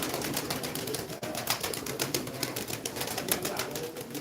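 Old pigeons coo and rustle close by in a steady, busy flock. Soft repeated calls mix with scratchy movement and a few flutters.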